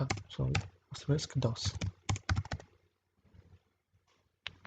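Rapid tapping on a computer keyboard, a run of close, crisp keystrokes mixed with a person speaking, then a quieter stretch and a final key press.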